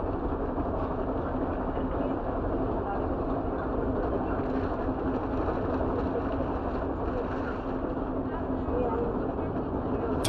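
Steady, continuous rumble of a moving train heard from inside, a dense low roar with faint rattling that never lets up.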